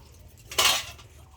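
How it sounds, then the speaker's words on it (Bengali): A single brief metallic clink as a spoon strikes a pot of biryani being layered with ghee over a wood fire, close and fairly soft against a low steady background hum. "একটু চামচটা এর মধ্যে দিয়ে দিচ্ছি।"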